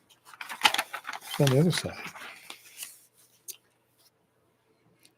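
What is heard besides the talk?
scissors cutting through vintage Life magazine pages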